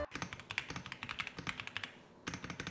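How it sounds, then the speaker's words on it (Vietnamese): Typing on a wireless keyboard fitted with double-layer PBT plastic keycaps: a quick, close run of crisp key clacks that stops for a brief pause and then starts again. "Keycap thì sử dụng chất liệu nhựa BBT hai lớp Nó cho mình một cái trải nghiệm gõ phím cũng như chơi game rất là đã"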